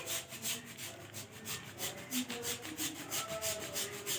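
Jaggery grated by hand for til-gud laddoo: a quiet, rhythmic rasping scrape, about four strokes per second, close and steady with no talk.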